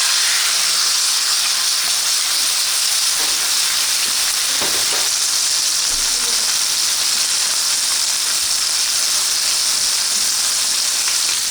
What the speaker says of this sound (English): We're just gonna sear it off, both sides.